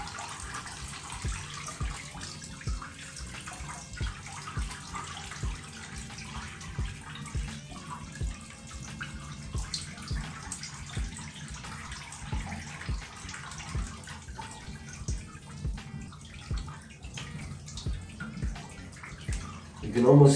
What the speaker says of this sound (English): The water's kind of flowing through them, really getting all that gunk out.